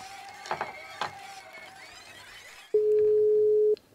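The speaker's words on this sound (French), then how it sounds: "on entend la tonalité" Telephone call attempt in which a steady single-pitch dial tone sounds loudly for about a second after faint background chatter and clicks.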